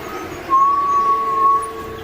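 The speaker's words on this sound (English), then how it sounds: "The only presence felt is a subtle whistle in the distance." A single thin, steady whistle drifts through a horror video game, sustained for about a second over a low, hushed ambience, faint and distant-sounding.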